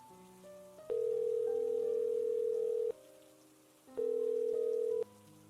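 A phone call's ringback tone sounds as two long, steady electronic tones separated by a short pause, clear and fairly loud over faint background hiss, with no talking.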